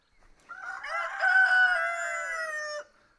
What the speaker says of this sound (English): A little too many roosters around here.